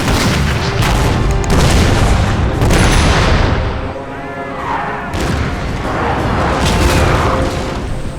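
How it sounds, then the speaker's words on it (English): Artillery bombardment of a citadel in a Total War battle game set in 1880 Kandahar: heavy booms and rolling gunfire, loud and continuous, with sharp blasts layered over a dense rumble. "Ayub Khan, the victor of the Battle of Maiwand, began bombarding the citadel from Piquet Hill"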